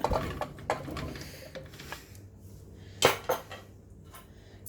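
About a kilo of large pumpkin pieces for erissery curry go into a cooking pot, making a run of close, irregular knocks and clatters, with a few louder thuds and scrapes of utensils against the metal pot.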